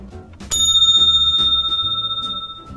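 A bright bell strikes once to end a round in a music theory game show, ringing out sharply and sustaining with a pulsing shimmer as it slowly fades, alone and loud.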